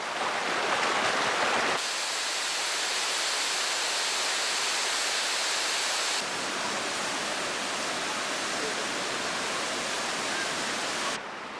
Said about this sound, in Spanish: A 60 grados caen de las cascadas.